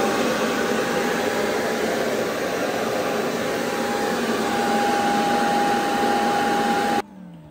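A Eufy S1 Pro robot vacuum's base station runs its dust collection cycle with a loud, steady suction roar and a faint high whine. It holds for about seven seconds and then cuts off abruptly.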